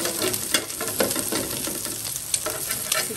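Water coming to a boil in a cooking pot for mung beans, a steady bubbling hiss with soft irregular pops throughout, close and moderately loud, with no talking.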